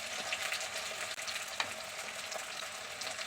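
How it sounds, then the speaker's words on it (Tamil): Chopped onions and green chilies sauté with popped mustard seeds in oil in a clay pot for a fish curry, producing a steady soft frying hiss with a few faint crackles. "வெங்காயத்தை நல்லா வதக்கிட்டு கொஞ்சம் நேரம் வதங்க விட்டுட்டு"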